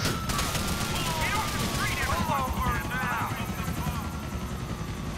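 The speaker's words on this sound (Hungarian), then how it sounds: "de 3 helikopter jön utána" Helicopter rotors thump steadily and loud in a GTA IV multiplayer game, a dense continuous chopping drone with gunfire-like crackles mixed in and people talking over it.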